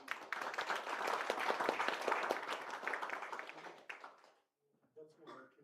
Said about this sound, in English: I don't think that a round of applause is enough.